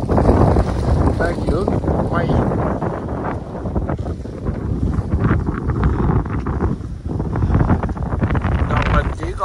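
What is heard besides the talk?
strong wind blowing on a boat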